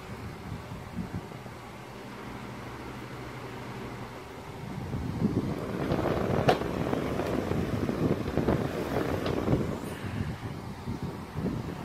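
A vintage table fan runs on its high setting with a steady, whooshing airflow hum that swells and grows rougher about halfway through, with a few clicks and rattles on top; fairly close and continuous, with no one speaking.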